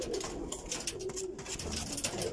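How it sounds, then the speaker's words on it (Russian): Pigeons kept by pigeon breeders in Tajikistan coo softly and steadily up close, a low continuous murmur over outdoor background noise. "Вот голубь."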